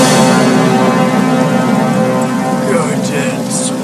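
Heavy rain pours steadily during a movie fight scene with Van Damme and Lundgren, a dense, loud wash of hiss with faint thunder-like rumble and brief tonal music hints near the end.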